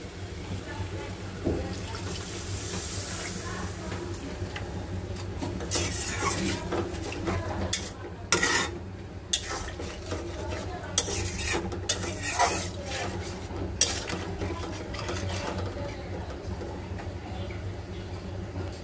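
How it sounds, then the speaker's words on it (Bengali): Spiced masala with salt, turmeric and chilli being stirred and scraped in a pan before meat goes in, steady scraping and clinking strokes at moderate level. "এখন শুধু কষাবো, এখন শুধু ইতে দেবো, এখন একটু কষিয়ে নিই।"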